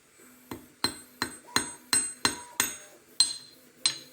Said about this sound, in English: take the flat end of our hammer